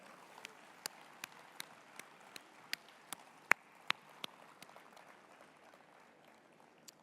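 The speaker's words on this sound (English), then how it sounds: "Let's give a biggest round of applause to our incredible parents and grandparents." Audience at a school annual address claps in a steady, evenly spaced rhythm, sharp distinct claps rather than a dense roar, fairly faint and with no voices over it.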